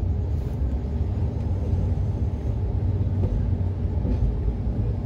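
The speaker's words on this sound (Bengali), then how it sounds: "বারাণসী জংশন ঢুকছে।" Heard from inside an AC three-tier coach, the Kumbha Express runs into Varanasi Junction with a steady low rumble and rattle, continuous and even throughout.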